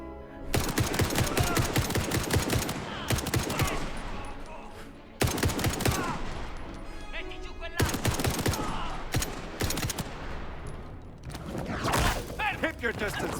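Shotgun gunfire in the Indiana Jones and the Great Circle video game, with loud, dense bursts of shots coming in several clusters separated by brief pauses, with a voice talking over parts of it.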